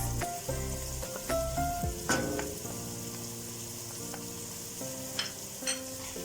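A cauliflower dish with green pepper and tomato paste sizzles steadily in a pan, a moderate hiss punctuated by scraping stirs and occasional clicks of a utensil, with no talking.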